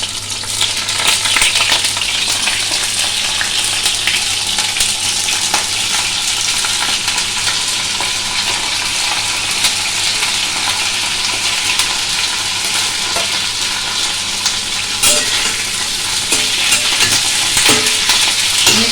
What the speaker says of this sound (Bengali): এবার আমি সবজিগুলোকে ভেজে নেব। প্রথমে কপি দিচ্ছি, ফুলকপি,